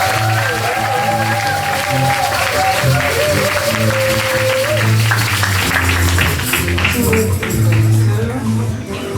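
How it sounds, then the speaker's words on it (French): A congregation claps steadily through a gospel church service in Évry, the applause running throughout and mixed with music and a singing or calling voice. "Pour l'acclamation pour le Seigneur."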